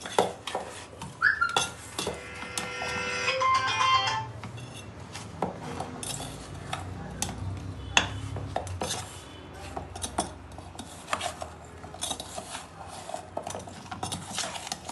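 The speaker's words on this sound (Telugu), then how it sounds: "ఇవన్నీ వేసుకొని బాగా కలుపుకోవాలి ఫ్రెండ్స్" Mango pickle is mixed with chili powder, salt and mustard powder in a metal bowl, with repeated scraping and clinking of a utensil against metal and softer stirring sounds in between.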